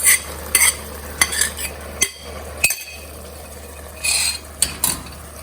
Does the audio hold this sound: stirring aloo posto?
yes